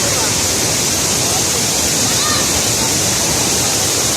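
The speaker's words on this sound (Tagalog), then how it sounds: "Pagbibinta falls." Tagbibinta Falls in Maragusan, Davao de Oro, roars as a loud, unbroken rush of falling water that fills the whole stretch, steady and close, with no talk over it.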